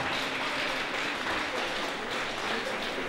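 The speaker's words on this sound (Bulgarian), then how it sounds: "Искам бурни аплодисменти за нея." Continuous crowd applause fills a public welcoming event for Miss Bulgaria 2021 in Shumen, a steady wash of clapping heard from some distance at moderate level.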